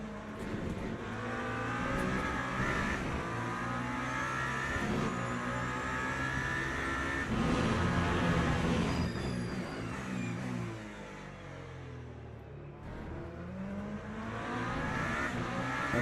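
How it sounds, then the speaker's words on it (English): BMW race car powering away at Sebring in a racing game, with engines revving hard and surging through gear changes, the roar staying dense and loud with harmonic whine, dipping briefly before building again. "You see how the BMW powers away."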